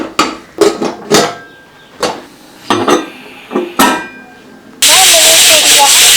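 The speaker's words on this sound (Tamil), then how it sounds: "சரி இப்போ மூணு விசில் வந்துருச்சுங்க" Talking and a few thumps, then a loud, steady hiss of steam bursts out and keeps going to the end, a pressure cooker whistle releasing while cooking broken wheat vegetable rice.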